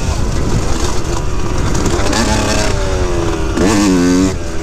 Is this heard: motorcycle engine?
yes